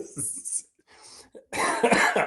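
Close coughing in a few harsh bursts, separated by brief pauses, ending in a louder, rougher cough.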